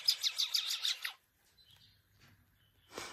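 Baby magpie chicks chirp in a rapid burst of high, shrill peeps for about a second, then near-quiet with faint rustles and a low hum, before another sharp chirp at the end.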